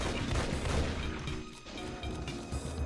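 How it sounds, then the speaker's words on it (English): An assault shotgun fires in the video game Doom amid a dense, loud barrage of booming blasts and explosive crashes that overlap continuously with chaotic combat noise, and no talking. "we have an assault shotgun"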